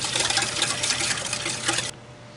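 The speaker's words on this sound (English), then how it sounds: "we're going to whisk this up really good till all the sugar is dissolved and it gets kind of frothy" A whisk beats a sugar mixture in a bowl until it turns frothy, giving a steady close scraping swish that stops abruptly just before the end.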